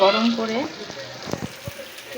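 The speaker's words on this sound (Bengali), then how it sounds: "তেল দিয়ে এখন একটু রসুন কুচি আর মরিচ কুচি দিয়ে এটাকে একটু লাল লাল করে ভাজা ভাজা করব" Chopped garlic and chili fry in hot oil in a wok, with a soft sizzle and a few scattered stirring clicks; a voice talks briefly at the start.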